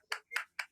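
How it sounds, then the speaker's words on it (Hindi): Three quick, separate claps in a short burst sound faint and thin, as if coming through a Zoom meeting call, with no talking. "जोरदार ताली बजाइए, जितने भी लोग जहाँ पर बैठे"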